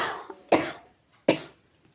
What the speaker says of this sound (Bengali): ভয়েস দিতে গিয়ে কাশি চলে আসছে